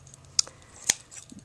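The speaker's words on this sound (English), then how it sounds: "all you got to do is just take your scissors and just go through" Scissors snipping through fringe trim for Christmas decorations, two sharp close cuts a half-second apart with faint rustling between, heard alone.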